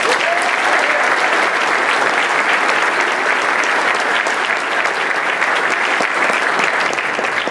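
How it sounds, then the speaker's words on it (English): Sustained applause from an audience at an NCO Academy graduation ceremony, dense steady clapping that stays loud and even throughout with no break. "So let's give them a round of applause."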